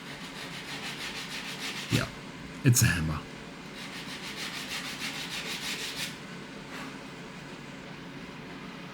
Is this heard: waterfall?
no